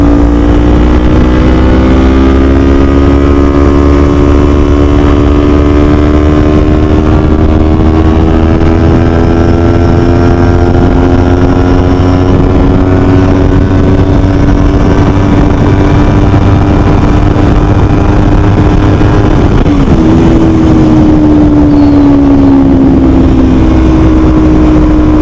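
A 2021 Kawasaki Z400 motorcycle being ridden, its engine droning loud and steady with rising pitch as it accelerates, shifting once and climbing again, with wind noise throughout.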